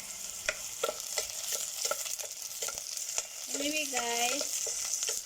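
Ginger, onion and garlic fry in cooking oil in a pan, a steady close sizzle broken by regular scraping stirs, with someone speaking briefly over it.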